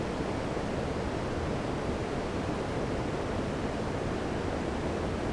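Turbulent river water churning through a weirpool on the River Calder, a steady dense broadband rush with no breaks, loud and close, carrying on alone without voices.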